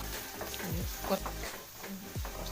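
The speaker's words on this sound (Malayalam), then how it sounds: "വെളിച്ചെണ്ണ ഒഴിച്ചിട്ടുണ്ട്. അതിലേക്ക് സവാള ഇട്ട് കൊടുക്കുക." Onions dropped into hot coconut oil sizzle and crackle close by in a pan, a steady frying hiss with a few stirring scrapes, no voices over it.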